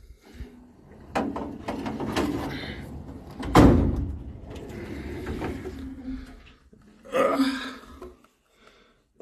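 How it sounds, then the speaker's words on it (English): A drawer of metal stamping pieces being opened, with several sliding and knocking clunks, the loudest near the middle and another shortly after, among quieter handling noise. "Let's go down a drawer."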